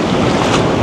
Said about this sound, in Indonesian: Loh, kok sekarang gede ya ombaknya ya?